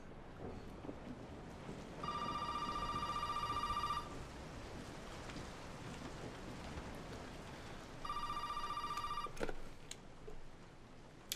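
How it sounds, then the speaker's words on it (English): A telephone rings in the horror game Resident Evil 7: Biohazard, two steady electronic ringing bursts a few seconds apart, each about two seconds long, over a constant rain-like ambient hiss. "Oh, phone's ringing."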